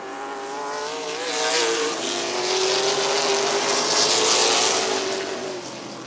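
Race cars at Midvale Speedway on a speedway track, engines howling loudly with rising and falling revving pitch as they pass close by, sustained for several seconds.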